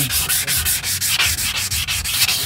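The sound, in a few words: wet sanding a dented car bumper with P400 sandpaper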